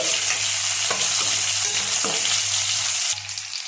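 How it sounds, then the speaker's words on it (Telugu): Onions frying in a pan make a loud, dense, continuous sizzle up close, with a few spatula knocks and scrapes, and the sizzle dips slightly near the end; no talk. "ఆనియన్స్ వేసేసుకున్నాం బాగా వేయించుకోవాలి ఇది"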